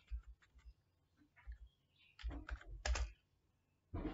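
Keys on a computer keyboard clatter in short, irregular bursts while HTML code is typed, faint and close with brief pauses between taps.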